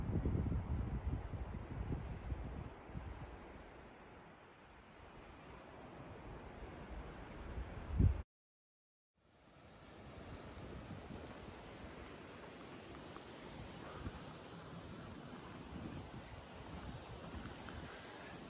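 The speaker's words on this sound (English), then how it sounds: "And the wind is going." Cold wind gusting across a mountain campsite on the John Muir Trail, a broad roaring rush buffeting the microphone, easing midway, cutting out briefly, then returning as a steady blustery roar.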